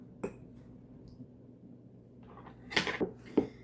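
A spoon or small whisk clinks and scrapes inside a mug while mug cake batter with chopped peanut butter cup is mixed. Faint at first, it builds to a few louder taps and knocks against the ceramic near the end.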